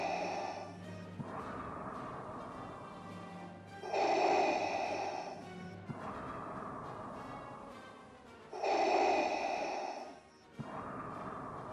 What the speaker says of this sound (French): a la respiration bruyante